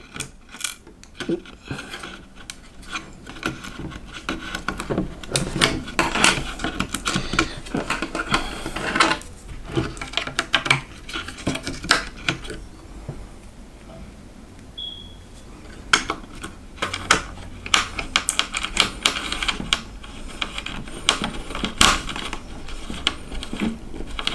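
A screw being driven by hand into a Ryzen 3700X gaming PC build, small metallic clicks, taps and scrapes scattered irregularly at close range with no talking.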